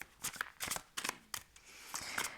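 Tarot cards being shuffled for a reading, a quick series of soft riffling bursts in irregular rhythm, close and quiet with no talking.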